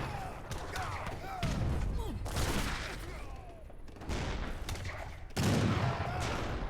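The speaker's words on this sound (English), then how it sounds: "Heavy cannon gets off another shot despite only being on 37 hit points." Heavy cannon fire and skirmisher musket volleys from an Age of Empires 3 battle crack and thud in repeated bursts, with booming impacts layered over a continuous din of combat and a commentator talking throughout.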